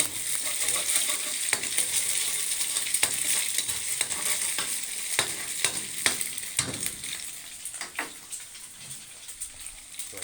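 Noodles are stir-fried for a Thai-style fried noodle dish, giving a steady loud sizzle broken by sharp scraping and clanking strokes of the spatula against the pan throughout.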